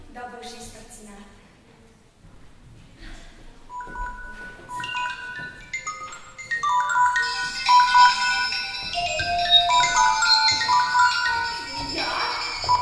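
A phone ringtone plays in a theatre play, a bright electronic melody of repeated tones that builds and grows louder, ringing steadily alone for several seconds.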